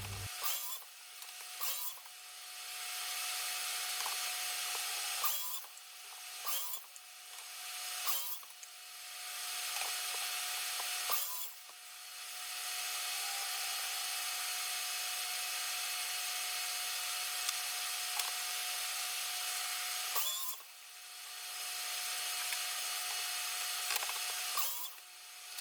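A miter saw cuts wooden cabinet pieces to size in a workshop, a loud whining blade in repeated bursts, several short cuts and then one long sustained run, with a dust extractor hum underneath.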